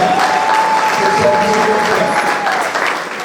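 Wedding guests applaud in a steady, dense wash of clapping that holds loud for about three seconds, with a thin sustained tone running faintly underneath.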